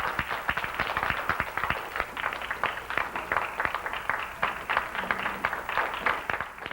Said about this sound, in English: Please give him a thunder of applause.